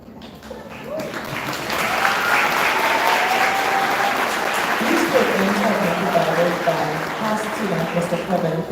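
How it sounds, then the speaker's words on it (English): An audience applauds at a secondary school's annual awards and 40th anniversary celebration, sustained clapping from a large crowd that builds quickly and continues throughout, with a voice heard faintly over it. "Let's have another round of applause, ladies and gentlemen, for Mr. Aaron Eichel"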